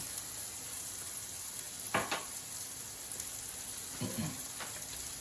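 Potatoes frying in a skillet on high heat give a faint, steady sizzle, broken by a couple of brief scraping or stirring clatters.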